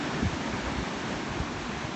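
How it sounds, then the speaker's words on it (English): Ocean waves wash ashore at Laguna Beach, a steady broadband hiss of surf with some wind rush, continuous and fairly soft, with no voices. "by the sounds of the ocean."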